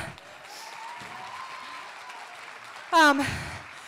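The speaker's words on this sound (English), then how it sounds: "can we give her another round of applause?" Applause for a fighter at an XFC 49 fight event carries as a broad crowd wash under a voice on a loudspeaker, with a brief loud burst near the end.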